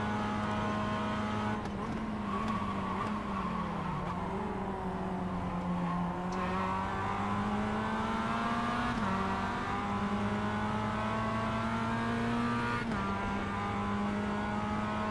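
Race car engine in the iRacing simulator, a loud sustained buzzing whine that climbs and dips in pitch through gear changes and corners, with brief drops as shifts occur, steady with no talk.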